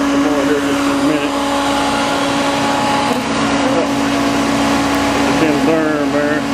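A vacuum runs with a steady, loud droning whine as it sucks up bees during a bee removal at a cement plant, holding an even roar throughout with voices faintly in the background.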